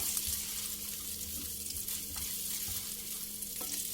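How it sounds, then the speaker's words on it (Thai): Garlic sautéing in a pan for a truffle mushroom cream spaghetti sauce, a steady close frying sizzle with light stirring scrapes running throughout. "ผัดให้กระเทียมนะคะกระเทียม เปลี่ยนสีนะคะ เป็นสีเหลืองอ่อนๆนะคะผัดให้หอมเลยค่ะ"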